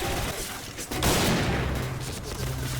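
Loud, dense gunfire from the online shooter Point Blank, a continuous rattling barrage of rapid shots that swells after a brief dip and keeps going throughout.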